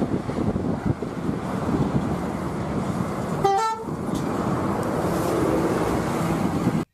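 A single brief honk from a red toy bus's horn sounds midway through a steady rushing, windy background noise.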